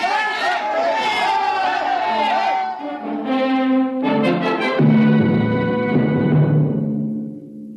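Angry crowd of voices surges in pursuit down a long steel corridor in a 1956 science-fiction radio drama, a dense babble of shouting with music-like tones layered over it, loud and continuous throughout.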